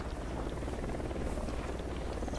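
A helicopter in the video game Ghost Recon Wildlands gives a low, steady rotor rumble at a moderate distance, continuous and unbroken, with no talk over it.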